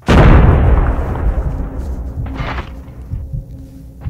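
An MP5 fires in a ranked multiplayer shooter game, a loud close burst of gunfire with a sharp crack and booming decay, then fainter shots and thumps trailing off.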